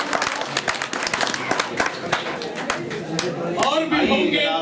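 An audience at a 2012 mushaira poetry gathering in Yerwada, Pune claps to welcome a poet: sharp, scattered claps in a lively cluster that thins out as a voice begins speaking near the end.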